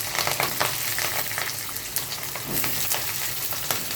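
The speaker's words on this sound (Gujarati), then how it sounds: "રાઈ તતડે એટલે હિંગ નાખશું. મરચાં નાખશું." Mustard seeds crackling in hot oil, followed by asafoetida and chillies frying, a soft continuous sizzle with scattered sharp pops and crackles, close and fairly quiet with no talking.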